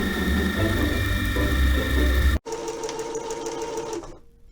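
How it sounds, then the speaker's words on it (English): A sewing machine stitching fabric runs in a loud, steady mechanical whir, stops for an instant, then hums on more lightly before winding down near the end. "and I am going to sew."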